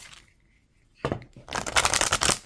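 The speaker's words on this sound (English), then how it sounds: "Did I shuffle these? I don't think I did. Let me shuffle these." Tarot cards are shuffled by hand after a quiet pause, with one sharp riffle followed by a longer stretch of rapid, crisp card flutters heard up close.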